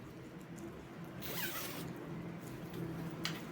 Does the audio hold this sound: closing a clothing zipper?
yes